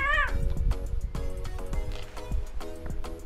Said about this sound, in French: le chien il a marché sur le chat